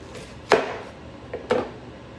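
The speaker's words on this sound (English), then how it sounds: "I'm just chopping it in half" Two sharp knife chops through an onion strike a cutting board about a second apart, crisp and close, with a softer tap between them.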